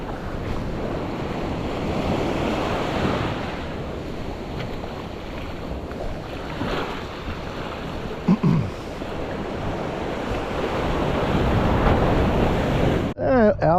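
Ocean waves washing onto a beach, steady surf roar mixed with gusting wind buffeting the microphone, a brief knock near the end, no talking.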